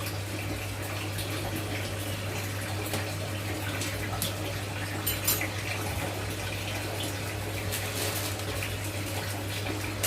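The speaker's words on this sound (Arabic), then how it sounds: "والرز اهو تحت الميه بيتغسل" Tap water runs steadily over rice being rinsed in a kitchen sink, a continuous close splashing wash over a low hum.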